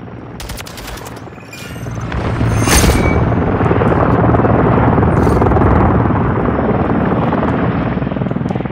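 A helicopter in Call of Duty Modern Warfare III, its rotor roar swelling to a loud, steady drone overhead, with a few sharp gunshots early on.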